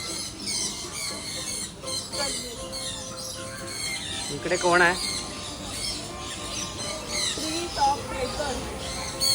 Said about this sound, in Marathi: आम्ही आलोय झू मध्ये आवाज हा पक्ष्यांचा आवाज